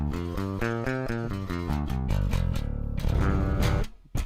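Bass guitar recorded straight through a DI with its amp profile bypassed, a dry, close riff of repeated plucked notes in a steady rhythm, ending with a short pause.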